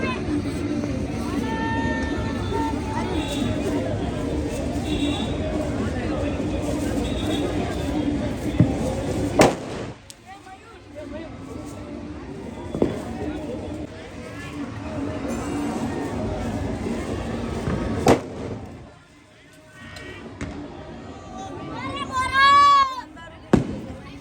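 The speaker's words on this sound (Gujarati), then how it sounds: "ફટાકા ફોડે છે" Sharp firecracker bangs pop out now and then over a constant crowd hubbub during the Vasi Uttarayan kite festival, with a whistling rocket sound near the end.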